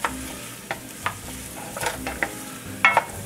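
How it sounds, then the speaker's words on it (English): Collard greens cooking with pork hock, garlic and red chili flakes in a pot, a continuous sizzle punctuated by clinks and scrapes of stirring, moderately close with no talking. "And just let this cook up for a minute or two."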